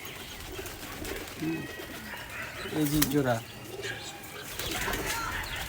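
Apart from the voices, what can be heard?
pair of pigeon chicks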